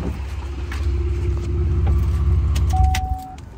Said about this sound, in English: my car loud as hell